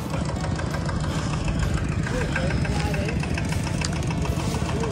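A small water pump engine runs at a rice paddy on a rainy planting day, chugging in a steady, continuous drone close by, with voices talking intermittently over it.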